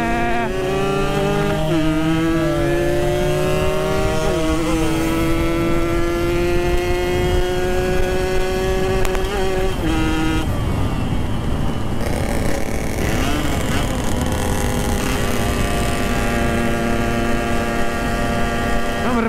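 A Yamaha RX-King motorcycle engine with a mis-set, flooding carburetor drones loudly and unevenly for a long stretch, its pitch wavering and sputtering as it revs up and down nearby.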